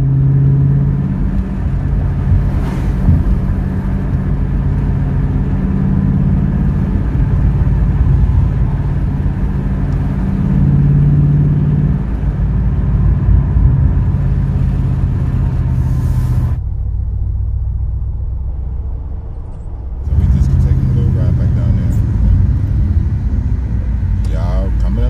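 A Ford Mustang GT fitted with long-tube headers and a race tune drives along, its engine and exhaust giving a steady, loud low rumble that drops off briefly before returning, heard from close by inside the car.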